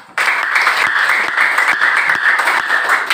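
A classroom of students claps together, a sudden burst of brisk, close applause with a few sharper individual claps standing out, continuing steadily for about three seconds.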